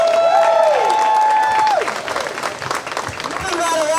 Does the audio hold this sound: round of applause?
yes